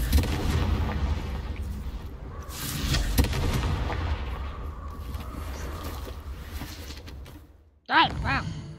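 Blasts of the Confringo fire spell in the game Hogwarts Legacy, heavy booming bursts that rumble for several seconds with a voice briefly heard over them.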